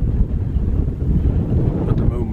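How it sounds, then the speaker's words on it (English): Strong mountain wind in the Carneddau, Snowdonia, buffets the microphone in a steady low rumble, continuous and loud throughout with no pauses. "At the moment it's so windy,"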